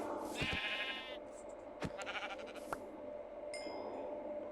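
Synthetic-sounding sheep bleats in Minecraft, a couple of short calls with electronic clicks and tones, set against a steady game-like background hum.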